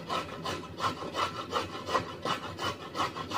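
Food is scraped over a hand grater for a pasta salad, a close, rhythmic rasping of about ten even back-and-forth strokes.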